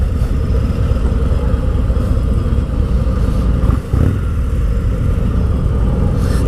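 A Harley-Davidson Road King's engine and exhaust rumble loud and close, holding a steady, deep throb with one brief dip before settling back in.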